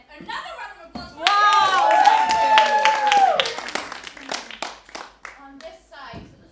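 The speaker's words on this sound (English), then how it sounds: "And then another round of applause." A round of applause from an audience, with scattered claps amid loud cheering and vocal whoops, followed by sharper individual claps that trail off.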